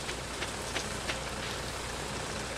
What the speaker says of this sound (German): Der Regen macht alles hier.